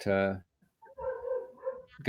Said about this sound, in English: it's my dog protecting my property while I'm in here